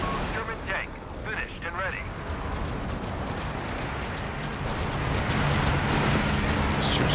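Anti-tank guns fire steadily in a Company of Heroes 3 4v4 battle, sounding as dense, continuous booming and crackling bursts that build louder toward the end, while someone talks over the battle.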